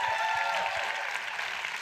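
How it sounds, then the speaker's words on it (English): An audience claps at an inspiring flash-talk event, a steady, even wash of applause carrying on without pause, moderately loud. "How about another round of applause for Ms. Fonda?"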